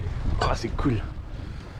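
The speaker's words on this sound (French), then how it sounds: "Petite rafale à 13 nœuds." A gust of about 13 knots sweeps across a sailboat running nearly downwind with the genoa full, a low steady wind rumble on the microphone beneath a brief spoken exchange.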